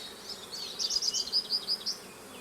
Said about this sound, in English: I see the bees are bringing in some pollen today.